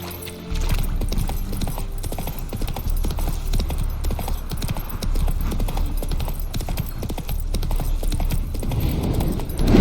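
Horse hooves gallop in a steady, loud clip-clop rhythm through nearly the whole stretch in The Witcher 3 video game, running on without pause.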